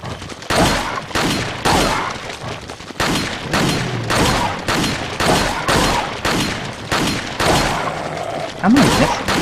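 Repeated gunshots in Resident Evil 4, a steady string of sharp, loud bangs about every half second to second, close and punchy, with a player's voice faintly underneath.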